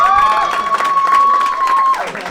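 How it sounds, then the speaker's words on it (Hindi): Audience at a Hindi comedy debate show claps and cheers in a dense, steady burst, with a sustained whistle-like tone above it, fading near the end. "जोरदार ताली उसके लिए"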